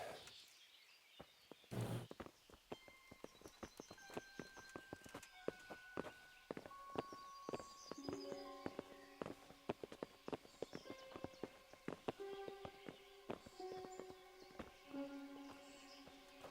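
Horse hooves clip-clop in Kingdom Come: Deliverance, a quick run of close, irregular hoof strikes mixed with ringing tonal game sounds and sparse background effects.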